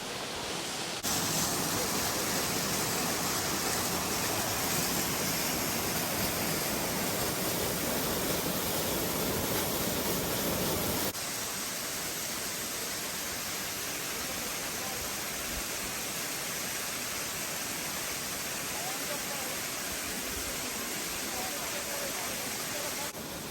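Steady, dense roar of the Şarlağan waterfall in the Amanos mountains, continuous rushing water close by, a little louder in the first half and then settling slightly quieter for the rest.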